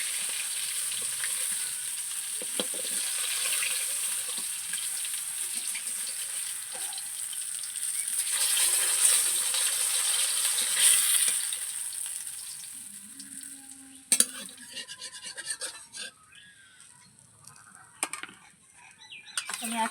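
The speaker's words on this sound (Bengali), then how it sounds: "আমি একইভাবে সব মাছগুলো ভাজা করে নেব।" Tilapia fish fry in hot oil with a steady bright sizzle that fades partway through. Utensils clatter sharply afterwards, and hens may cluck faintly in the background.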